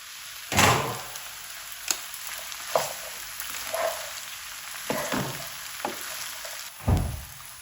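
Okra and onion fry in a pan with a soft continuous sizzle, interrupted by several louder clunks and stirring knocks spaced a second or two apart.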